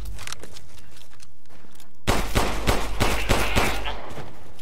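Gunfire in the video game Resident Evil Village: a quieter stretch gives way to a loud, rapid burst of repeated shots in close succession over the final couple of seconds.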